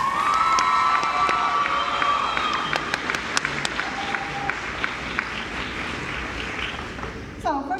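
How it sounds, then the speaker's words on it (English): Crowd at a pop culture convention costume contest claps and cheers loudly for an entrant, sustained applause with scattered whoops and high-pitched shouts, thinning out toward the end. "give her a big round of applause"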